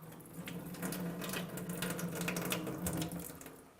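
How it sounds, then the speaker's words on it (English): Running tap water rinsing out a handheld water tester at a sink, a steady close splashing stream with small bursts of spatter. "I'm going to rinse it out, make sure we get all that tap water out."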